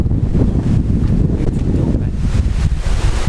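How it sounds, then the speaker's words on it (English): Strong wind buffets the microphone continuously, producing a loud, roaring rumble with gusty surges throughout and no clear voices. "see what I mean about this wind up here? It's blowing from over there"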